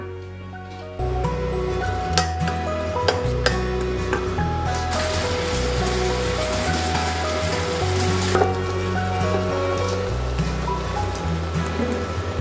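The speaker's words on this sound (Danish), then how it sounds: "Mens min bær og citronsaft de kommer op og koge" Berries and lemon juice heat toward a boil in a pot, giving a steady sizzling, bubbling hiss that lasts throughout under louder background music.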